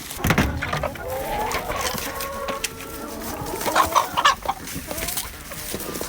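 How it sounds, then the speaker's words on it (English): Several hens cluck and murmur close by, a busy overlapping chatter with a few louder squawks partway through. "I want to let these hens out first because I can hear them itching to get outside."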